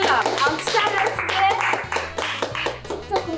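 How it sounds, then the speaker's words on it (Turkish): Office staff clap along, sharp rhythmic handclaps over a steady beat of background music, close and continuous for a few seconds. "Alkışlarla"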